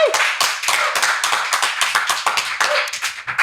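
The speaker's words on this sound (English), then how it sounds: "Big round of applause Melina to Shaw." Audience applause at a comedy show, with a modest crowd producing lively, close and distinct hand claps in a fast, uneven rhythm that continues steadily for a few seconds.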